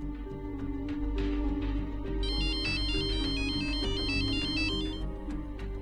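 A mobile phone ringtone plays loud and close in a home scene from a Marathi TV serial, a repeating electronic melody over a steady musical backing, with no voices while it rings.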